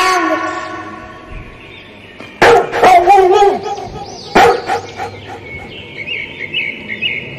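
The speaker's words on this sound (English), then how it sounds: "D for dog." A cartoon dog barks in a children's alphabet song, two sharp close barks with a voice and chirping birds around them.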